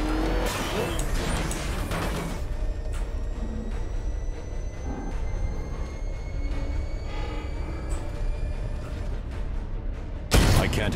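The Cobra tank in the video game Batman Arkham Knight moves with a continuous heavy mechanical roar and grinding, with squealing tones and scattered impacts, loud throughout and ending in a sudden burst.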